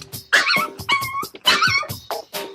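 Close, loud dog barking with yips and a whiny edge, in two rapid bursts of several barks each.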